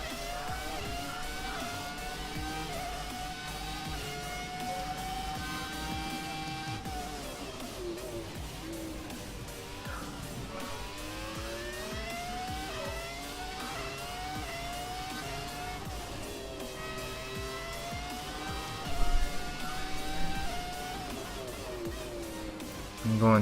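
Classic Formula 1 cars race around Monaco in F1 2017, their high-pitched engines screaming and rising and falling through gear changes and corners. The engine note is continuous and close, with brief louder bursts near the end and a voice talking underneath.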